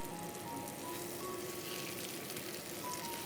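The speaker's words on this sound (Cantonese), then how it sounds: "最後轉大火煎香煎脆兩面" Pork chops seasoned with sand ginger and sesame pan-frying over high heat in a flat pan, giving a steady, even crackling sizzle throughout with no talk.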